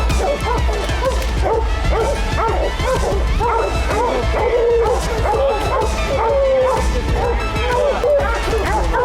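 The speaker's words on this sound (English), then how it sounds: "We gotta get the dogs back there first." Hunting dogs on a Wisconsin black bear hunt bark, yip, whimper and howl in a loud, dense, continuous chorus close by, with brief voices mixed into the din.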